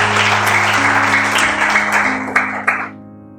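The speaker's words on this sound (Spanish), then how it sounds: "Denle un aplauso a Cristo." Congregation applauding during a Sunday church service, loud sustained clapping over held keyboard chords, tapering off near the end with a couple of last claps.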